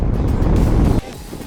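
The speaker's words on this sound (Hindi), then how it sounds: "ठंडी हवाएं चल रही है, बहुत तेज" A strong, cold wind on Umling La, a high mountain pass, roars and buffets the microphone loudly for about a second, then drops to a much quieter rustle.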